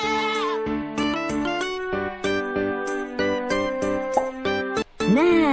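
Goat bleats sound in the Bobby Bola toddler video game, several wavering bleats over a bright plinking musical tune, with a final rising bleat at the end.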